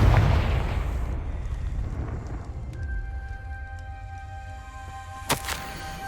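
A Confringo blasting spell erupting in Hogwarts Legacy, a heavy boom at the start that fades into a rumbling decay, followed by faint magical tones and a sharp crack near the end.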